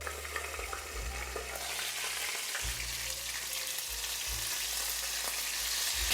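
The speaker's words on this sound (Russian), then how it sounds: "Котлеты я несколько раз перевернула туда-сюда, и они у меня обжарились еще под крышкой." Fish cutlets with a filling fry in a pan, giving a steady, close crackling sizzle throughout with a low rumble beneath.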